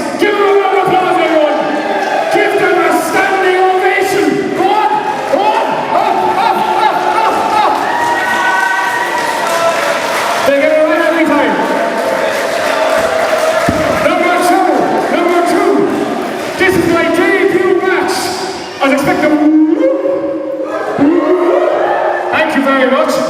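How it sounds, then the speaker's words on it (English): Loud wrestling crowd at an indie show cheers and applauds the sound crew, a dense, continuous roar of clapping, shouts and whoops with voices mixed throughout. "Give them a round of applause, everyone."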